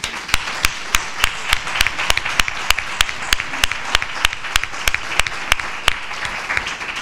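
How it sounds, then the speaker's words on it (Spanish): Applause fills a full assembly hall at the Museo Vázquez Díaz in Nerva, a crowd clapping steadily while a few sharp, regular louder claps stand out near the recorder. "os pido un fuerte aplauso de verdad para vosotras"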